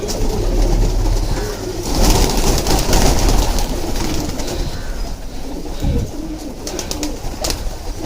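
Homing pigeons coo repeatedly at close range, soft throaty calls overlapping in a busy flock, with rustling and a few wing flaps in the background.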